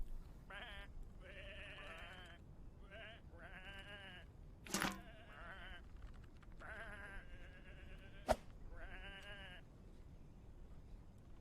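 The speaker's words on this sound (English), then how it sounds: "Come on, these are just sheep." Several sheep bleat in a series of wavering calls in a PC video game, moderately close, with a couple of sharp clicks and a quiet background hum.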